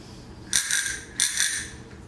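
A small bicycle bell rings twice, two bright metallic trills about half a second apart, close and fairly loud.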